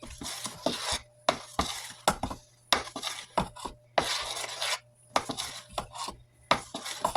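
A spoon stirs banana bread batter in a bowl with a quick, uneven run of close scrapes and clinks that pause briefly between strokes, and no voices.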